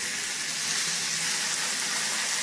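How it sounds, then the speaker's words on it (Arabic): Meat sears in a hot pan on a stovetop, grilled without an oven, giving a loud, dense, continuous sizzle that holds steady and close throughout, with no talking. "لازم الطشه دي حلوه عشان تسمع اللحمه كده"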